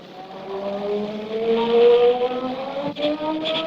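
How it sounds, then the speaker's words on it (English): A wavering electronic hum, the magic-ray sound effect of the Blue Beetle in a 1940 radio drama, rises and bends in pitch for a few seconds alone, ending in a sharp click. "That was the sound of the Blue Beetle's magic rays."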